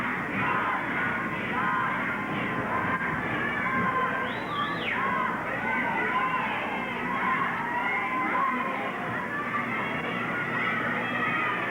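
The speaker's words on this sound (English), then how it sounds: "The crowd trying to spur Rocky on." Crowd noise at a 1982 Portland wrestling match between Stan Stasiak and Rocky Johnson, a steady dense roar of cheering and yelling with individual shouts rising above it, continuous throughout.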